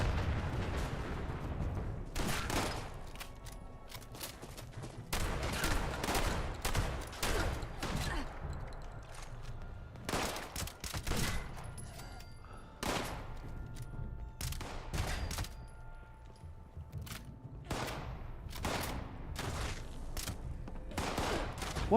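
Repeated gunfire bursts and sharp single shots from a sniper build in the video game Fallout 76, loud and frequent across the whole stretch, with brief gaps between volleys and some faint game ambience underneath.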